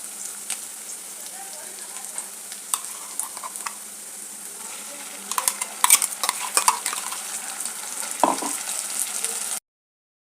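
Ground masala paste and onions sauté in a pan for a festival vegetarian thali, with steady sizzling and repeated scrapes and clinks of a stirring spoon, fairly close, before an abrupt cut to silence.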